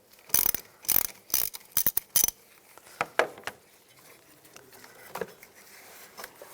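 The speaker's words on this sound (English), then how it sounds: "Disconnect the negative terminal. Use a 10mm socket." Socket wrench with a 10mm socket ratcheting on the negative battery terminal of a 2010-2017 Chevrolet Equinox: several close, sharp bursts of clicking in quick clusters, then scattered fainter clicks and handling noise.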